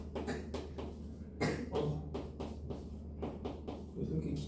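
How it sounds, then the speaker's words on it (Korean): Scattered coughs from several people in a classroom during a math lesson, short bursts close and faint over a low steady room hum, with some quiet murmuring mixed in. "왜 이렇게 기침하는 친구들이 많지?"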